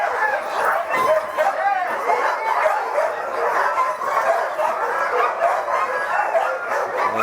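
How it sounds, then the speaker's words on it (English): Sled dogs waiting before a dog sled race bark, yip and whimper continuously in an excited, overlapping chorus close by, with voices talking underneath. "Getting the dogs ready for a dog sled race."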